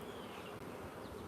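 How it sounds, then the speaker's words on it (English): Russian honeybees buzz in a dense, continuous swarm drone during a hive inspection, a steady close hum with no voices over it. "Russian genetics, angry bees make good honey"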